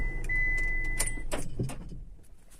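A car with a faulty engine mount gives off a metallic, jangling rattle from the engine bay over a low idling rumble. Close sharp knocks build in the middle, then fade as the sound tails off.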